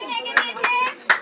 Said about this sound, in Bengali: হাততালি। এটা তোমার জন্য।